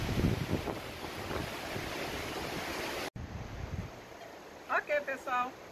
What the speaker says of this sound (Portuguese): Hoje está ventando bastante.